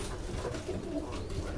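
Domestic pigeon cooing close by, a soft, low throaty coo in a short burst, faint against a quiet background.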